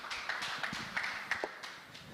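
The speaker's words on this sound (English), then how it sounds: "Please, once more, a round of applause for them" Applause from an audience at a design and build expo knowledge exchange panel session, a steady wash of clapping with a few sharper claps standing out, continuing throughout at moderate level.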